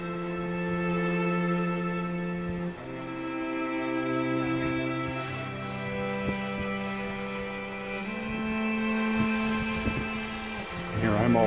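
A 3DHobbyShop 103-inch Extra 330SC gas-powered RC aerobatic plane flying at a club field, its engine droning steadily with pitch rising and falling as it passes, loud and continuous throughout, with people talking over it.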